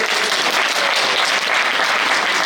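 Convention audience in Himachal breaks into strong, sustained applause, a loud, uniform wall of clapping from a large crowd that stays constant for the whole stretch.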